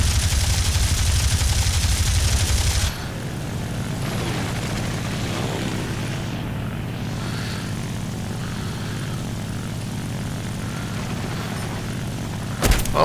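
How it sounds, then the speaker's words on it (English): In the War Thunder air-combat game, a dense burst of rapid gunfire rings out over the steady drone of a propeller aircraft engine, then stops while the engine keeps droning on alone. "someone's shooting at me"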